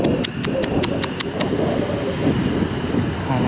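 Steady roar of an airplane engine building for takeoff, a broad continuous rumble with faint rhythmic clicks on top, heard from outside at a distance.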